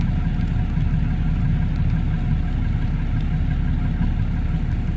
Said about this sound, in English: And that tractor's made in Canada. It's a Canadian tractor.